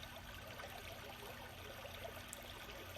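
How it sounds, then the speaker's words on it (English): A babbling brook flows steadily near a coastal home, a soft, continuous trickle and wash of water at low level, unbroken and without voices. "I hope you enjoy the meditative babbling brook sounds while watching me"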